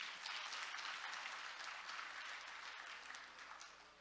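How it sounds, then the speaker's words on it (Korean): Conference audience applauding session speakers after a container shipping panel, a steady wash of many hands clapping at moderate distance, slowly fading toward the end. "다시 한번 여러분 큰 박수 부탁드립니다."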